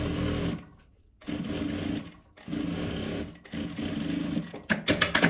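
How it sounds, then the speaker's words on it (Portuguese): A sewing machine stitches a side seam on a fabric handbag in close, steady whirring runs. The runs are broken by short pauses, with a few quicker, faster bursts at the end. "Vou passar a costura aqui e depois fechar essa parte."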